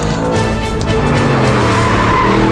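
An Audi R8 is driven hard on a racetrack, its engine roaring loud and close without a break while the tyres squeal and skid through a corner.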